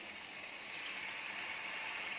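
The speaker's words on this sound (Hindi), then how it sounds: "इसमें थोड़ा पानी और डालेंगे ताकि ये नीचे नहीं लगे" Water poured into a pot of potatoes simmering for aloo wadiyan, a steady broadband pouring hiss held evenly throughout at low level, with no talk.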